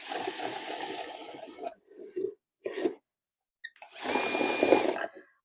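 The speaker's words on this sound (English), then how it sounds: "I'm going to go ahead and get the holes drilled in these real quick" A power drill whirs in short bursts drilling holes in plastic, a long run at first, then a few brief stops and starts, and a final steady spin.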